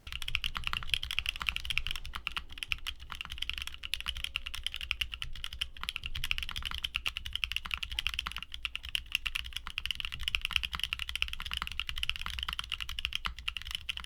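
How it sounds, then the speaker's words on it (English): Continuous fast typing on a mechanical keyboard with TTC Neptune switches, each keystroke crisp and close, running without pause and with no speech. "Now, here's the sound test."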